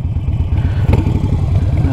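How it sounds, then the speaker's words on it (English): A Harley-Davidson Sportster 1200 Iron engine idles close by after a Fuelpak AutoTune fuel tuning, giving a steady loping low-pitched rumble with a regular pulsing beat and no talking. "Seems to be idling fine."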